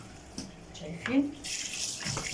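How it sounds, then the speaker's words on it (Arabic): Water splashes and rinses around a stainless steel kitchen sink in short gushes, close by, with someone speaking briefly alongside. "انا بشطف الحوض جامد"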